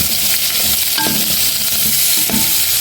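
Onions fry in a pan for a pasta dish, a loud dense sizzle that continues without pause, with a few brief spoon scrapes and clinks on top, very close, no talking.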